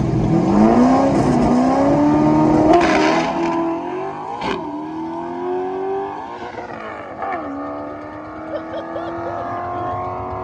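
A 347-cubic-inch Fox-body Mustang coupe making a drag strip pass: the loud engine climbs steadily in pitch, drops sharply at two gear shifts, then pulls hard again through the run.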